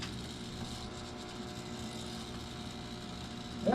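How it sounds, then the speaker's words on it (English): Electric fuel pump running steadily while filling a Mercedes 220, a constant mechanical whir and buzz throughout, with a brief louder clunk at the very end. "That's just about done pumping fuel."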